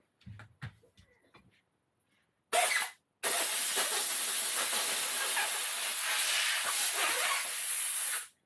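Carb cleaner aerosol blasting through a part of a Honda GX240 generator carburetor: a few quiet handling clicks, a short hiss burst, then a long, loud, steady spray hiss lasting about five seconds.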